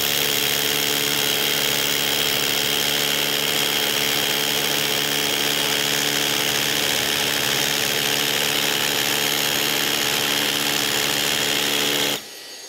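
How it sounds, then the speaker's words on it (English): A Bosch cordless Bulldog rotary hammer drills a hole with dust extraction running, a loud continuous hammering drone that holds steady for about twelve seconds and then cuts off abruptly. "Then we're going to turn our dust extraction on. And then on go, we're going to start our hole."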